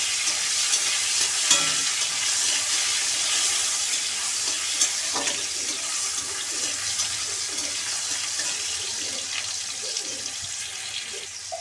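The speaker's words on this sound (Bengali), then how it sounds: "এবার দিয়ে দিলাম টমেটো কুচিটা। টমেটোটাকে একটু ভালো করে ভেজে নিয়ে" A steady, loud sizzle of chopped tomatoes frying in a pan, with occasional scraping stirs, continuing without pause and no voices.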